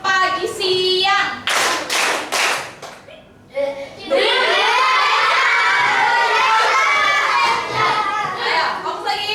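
Schoolchildren in a classroom play a rhythmic clapping game, with a quick run of crisp, evenly spaced claps. Excited shouting and chatter from the group follows and fills the rest.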